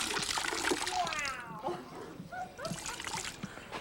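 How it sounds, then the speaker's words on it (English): A car-washing sponge soaks up soapy water with a mix of splashing, sloshing and trickling that comes and goes, while someone talks over it. "This is demonstrate how much water a sponge will hold."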